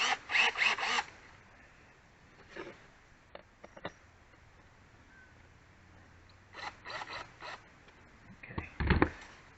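Short whirring bursts of a power drill drilling a pilot hole come in spurts, loud at the start and again near the end, with quiet pauses in between.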